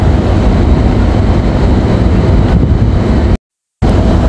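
An engine over-speeding and roaring with uncontrolled throttle, its governor not working, gives a loud, steady, dense roar that runs continuously, cut by a brief total dropout just before the end.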